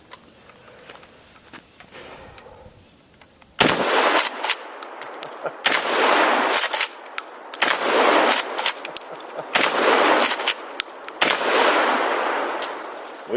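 Slug rounds fired at a propane tank outdoors: a series of loud, sharp gunshots in an irregular rhythm, each blast followed by a brief decaying echo, after a quieter opening few seconds.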